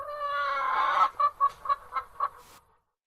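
Chicken clucking in a short burst: a drawn-out squawk followed by five quick, evenly spaced clucks, close and clear with no talk over it.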